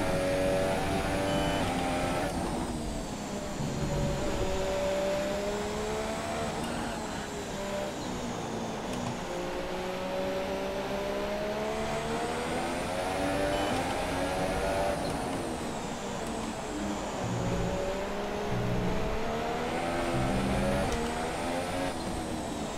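Haas Formula 1 car engine in the F1 2017 video game at the Hungarian Grand Prix, a loud, continuous high-revving whine rising and falling through gear changes under acceleration.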